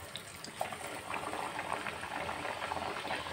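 Potato kachoris, made from wheat-flour dough, fry in hot oil, giving a continuous dense sizzle and bubbling crackle, steady and close with no break, with no one speaking.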